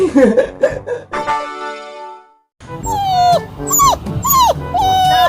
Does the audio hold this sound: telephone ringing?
no